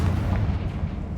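A Confringo blasting spell exploding in Hogwarts Legacy, a dense, loud low-heavy rumble filling the whole short moment without a distinct onset, with no talk over it.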